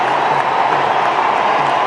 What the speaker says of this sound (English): what a reception AB de Villiers got from this crowd